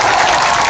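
Loud, dense crowd applause at a Khesari Lal Yadav election rally, a continuous wash of clapping with no pauses.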